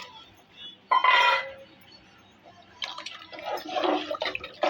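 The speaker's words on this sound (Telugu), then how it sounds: "ఇప్పుడు దీంట్లో నేను ఏ బౌల్తోనైతే రైస్ తీసుకున్నానో ఆ బౌల్తో వాటర్ వేస్తున్నానండి" Water poured from a bowl into a pressure cooker for vegetable fried rice, in two short splashing pours close by, with a faint clink of the bowl between them.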